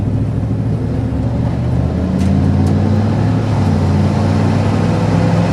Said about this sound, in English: That motor sounds good, pulls well.